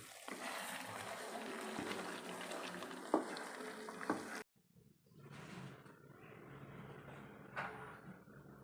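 Tomato thokku simmers in sesame oil in a pan after about 10-15 minutes of cooking, giving a soft continuous bubbling sizzle with a few pops, then a short near-silence before the quiet frying resumes.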